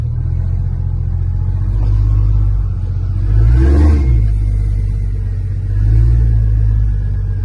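A Nissan Patrol GU with a TB45 turbo engine revs and pulls away in first gear, a deep steady rumble that swells twice as the throttle opens, close and loud with no talking.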